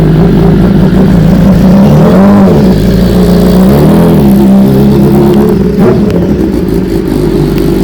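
A 2018 BMW S1000RR motorcycle engine revs loudly and close by, its pitch climbing and falling through several sustained throttle blips over a steady idle roar.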